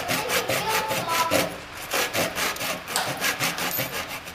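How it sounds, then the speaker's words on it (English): A dull hand saw cuts an angled dovetail line in wood for a traditional woodworking bench, its rasping strokes repeating in an even back-and-forth rhythm, close and moderately loud throughout. "Now I am just going to make the simple angled cut here so I can chisel off my dovetail"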